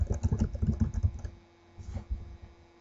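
Fingers type on a computer keyboard entering a user's name into a search field, a quick run of close, crisp key clicks that stops partway through, followed by a few scattered taps.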